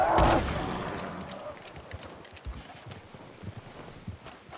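Horse hooves clip-clopping in Red Dead Redemption 2, a fast irregular run of soft thuds following a loud burst at the start, moderately loud with no speech.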